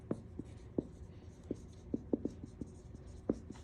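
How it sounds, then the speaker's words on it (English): Pen strokes scratch across paper as construction drawing names are written out, a dozen short, quiet scribbles in an irregular rhythm, close and alone in a hushed room. "I'm going to just go ahead and write them out for you."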